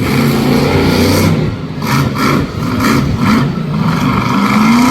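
Monster truck engine roaring and revving at a live arena event, loud and close, with pitch swells and dips as the truck turns and pulls away.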